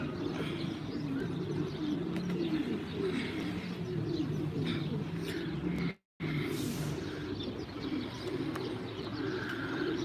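Pigeons cooing in soft repeated phrases with occasional chirps nearby, over a steady low background hum and a brief dropout midway.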